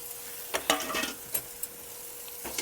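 Roasted eggplant being stirred into a pan of frying green chili and oil, with faint scraping spoon strokes and soft intermittent sizzle, quiet and close, plus a thin steady hum underneath.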